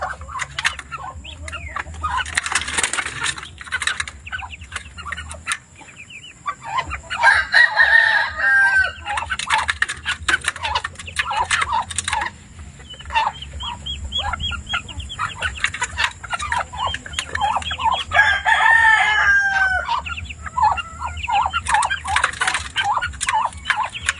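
Red junglefowl (labuyo) crow loudly twice, each long crow rising out of a run of busy clucking and scratchy fowl chatter that fills the yard throughout.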